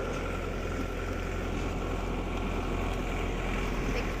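A tractor driving along a village road under construction, its engine a steady low rumble that holds constant and fairly close, with no voices.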